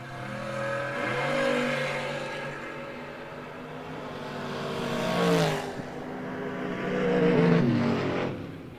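A 1986 Camaro drag race car accelerates hard at a drag strip, its engine note rising loudly through gear changes with a surging peak near the end, no talk over it.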